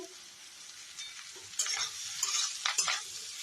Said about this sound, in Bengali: এই যে আমার এখানে ভাজা ভাজা হচ্ছে